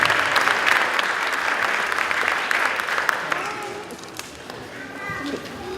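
Sustained applause from an audience at an 8th grade graduation, a dense wash of clapping that carries on steadily, with voices mixed in beneath it.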